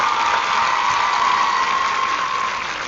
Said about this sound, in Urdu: اس معاشرے کے لیے تالیاں بجا دیجیے